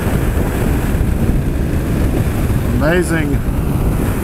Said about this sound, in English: I swear the wind's worse than it was yesterday.